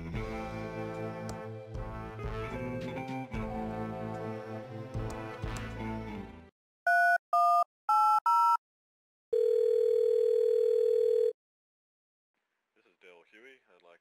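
Telephone sounds in the Thimbleweed Park adventure game: after music ends, a few short ring bursts follow, then a steady sustained dial tone, then silence with faint sound at the end.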